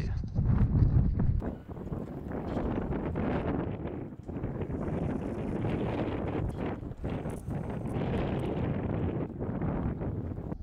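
Wind gusts across the open Baltic Sea on a sailing trip, buffeting the microphone in strong low blasts with rustling and water movement, continuous and fairly close.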